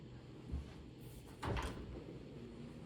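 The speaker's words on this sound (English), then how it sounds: "Let's open up the other door." A bedroom closet door in a ranch-style home slides or swings open with a soft thump and a brief rolling scrape, faint and close in a quiet room.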